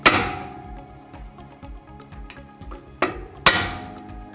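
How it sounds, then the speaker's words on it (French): A hammer taps a screwdriver to seat a railing spacer, with a sharp strike at the start, a run of lighter rhythmic knocks, then two more firm blows close by. "avec un tournevis et un marteau, venir s'accoter et donner un petit coup comme ça pour le rentrer bien en place"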